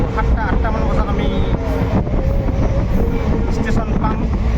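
A passenger train rolls along on the way home from Guwahati, giving a continuous rumble with clattering wheels and rattling carriages. The noise stays loud and close throughout, and voices murmur faintly within it.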